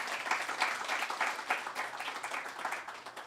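Hackathon audience applauding a presenting team after their presentation, a moderate, steady round of many hands clapping in a room, pulsing slightly as it carries on.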